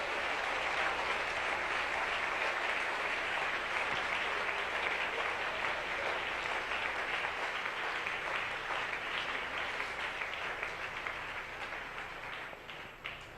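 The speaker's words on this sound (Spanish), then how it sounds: "Denle ese aplauso al Señor bien fuerte" Church congregation breaking into loud sustained applause in praise, a dense wash of many hands clapping that holds steady for several seconds before slowly thinning toward the end.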